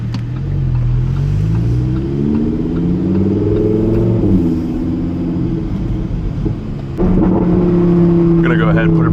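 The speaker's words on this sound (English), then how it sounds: "you can really hear those valves open" A Lamborghini Huracan Evo Spyder engine with its exhaust valves open drones loud and close, its tone climbing and falling with the revs, dipping briefly, then settling into a steady, strong roar.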